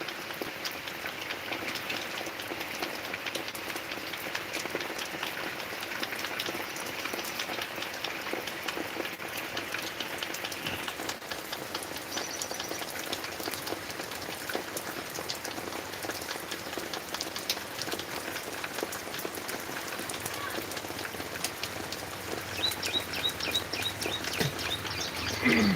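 Steady rain patters on a farm, a dense even hiss of drops hitting surfaces throughout, with faint bird chirps now and then in the background.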